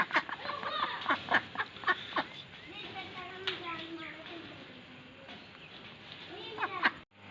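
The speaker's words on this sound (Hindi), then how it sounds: "मेरे पास इस केज में ना 2 मोर हैं, 2 बत्तख है, एक मुर्गा है, तो ये इसने बहुत शोर मचाया है।" Caged ducks, peacocks and a rooster make a busy mix of quacks and squawks, loudest at the start and then settling into quieter, overlapping calls.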